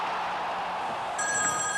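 A telephone ringing in an office as a call from the White House comes in for Pete Rose, with a bright electronic ring tone rising over steady background noise toward the end.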